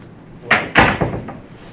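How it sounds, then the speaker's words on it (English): Door being shut indoors, a quick rattle followed by a firm thud and a short trailing knock, close and fairly loud with no talk. "You want to shut the door?"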